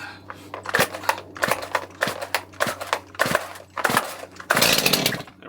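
A chainsaw on a freshly tensioned chain, used for cutting firewood at a snowy off-grid cabin, gives a series of sharp pull-start bursts and short revs, each lasting under a second, loud and close, with a longer roaring burst near the end.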